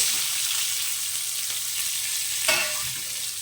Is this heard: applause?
no